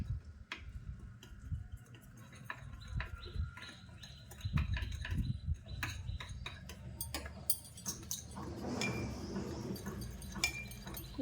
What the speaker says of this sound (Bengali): এটা একটু জল দিয়ে আমি ব্যাটার করে নিচ্ছি